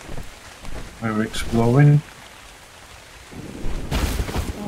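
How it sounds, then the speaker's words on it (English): Rain and thunder in the survival game Dark and Light: a rushing broadband wash that swells in loudly near the end, following a brief spoken phrase. "Rain! Oh, glorious rain!"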